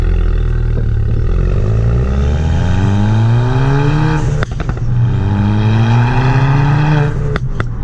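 A Ford Fiesta ST with stage 2 tune and turbo-back exhaust revs hard and climbs in pitch, drops back, then revs up again with a loud, deep, raspy exhaust note close by.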